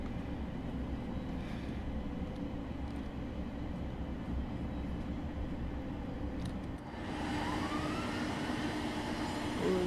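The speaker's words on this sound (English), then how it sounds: "Ooh, some sirens of some sort." Emergency vehicle sirens in Train Sim World 4, heard near Gillingham Depot and Rainham while a Class 700 train runs. Faint wailing tones rise in the last few seconds over a continuous low rumble from the train.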